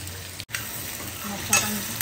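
Tomatoes frying in a pan with chillies for a dry fish curry, a soft steady sizzle with a couple of scraping stirs, close and fairly quiet.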